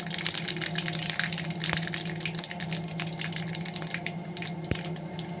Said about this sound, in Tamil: கடுகும் உளுந்தும் நல்லா வெடிச்சிருச்சு